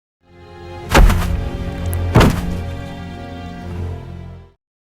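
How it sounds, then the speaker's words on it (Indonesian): Two sharp gunshot-style blasts about a second apart, each a loud sudden crack followed by a booming, ringing reverberant tail that slowly fades, with no talk. "Suara tembakan terdengar."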